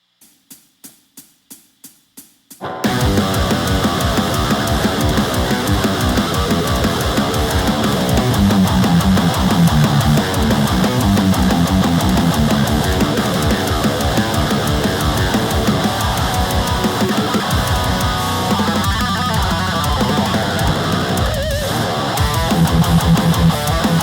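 Electric guitar played through a mic'd Kraken amp with the Helix still in the chain, loud and dense throughout, entering after a few faint plucked notes at the start and sitting in a full mix.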